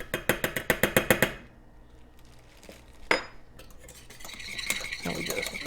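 A spoon stirs cocoa powder into a sugar-free dessert topping, opening with a quick run of bright metallic clinks against the bowl, then a pause with a single sharp tap and softer scraping near the end.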